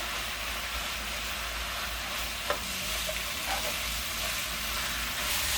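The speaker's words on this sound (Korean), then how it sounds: "이렇게 야채를 넣고 이렇게 한 조금 볶은 다음에" Vegetables with chili powder stir-fry in a pot for soft tofu stew, a dense steady sizzle and crackle filling the clip, with a faint utensil scrape or two stirring close by.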